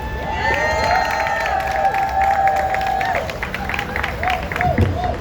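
A crowd at a City Hall immigrant monuments event applauds and cheers for the Mayor of Paterson, a loud, steady swell of clapping with shouts and whistles across the whole stretch.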